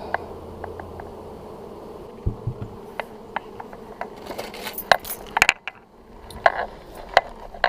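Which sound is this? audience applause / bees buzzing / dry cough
bees buzzing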